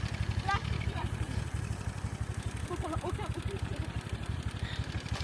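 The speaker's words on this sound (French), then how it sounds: "Il faut reculer la moto." A motorcycle engine idles on a sandy beach with a steady low chugging throb, close by, while people talk over it.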